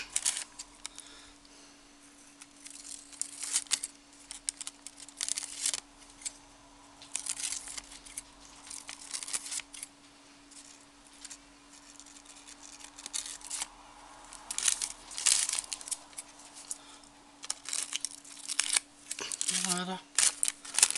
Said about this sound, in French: je vais essayer de couper quand même un petit peu droit